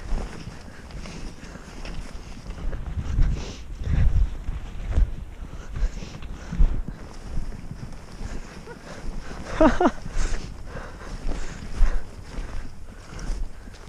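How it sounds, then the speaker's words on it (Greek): Steady wind buffets the microphone in low rumbling gusts on a snowy mountain descent near the 2154 m Voutsikaki summit in the Agrafa range, Greece, with occasional crunching footsteps and rustling underneath; a brief gust peaks near the end. "Αέρας."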